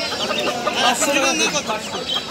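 Kadaknath chickens cluck close by at a busy village poultry market, the Media haat. Short clucks repeat over market chatter and voices.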